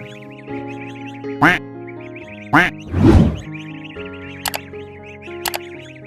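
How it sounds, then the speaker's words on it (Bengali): Inside a tree-hollow nest, a mother duck gives several loud, close quacks and a longer raspy call while her newly hatched ducklings keep up a continuous high-pitched peeping chorus. "এখন এই বাসা বাচ্চা ও তার মায়ের কলরবে এক ব্যস্ততম জায়গা"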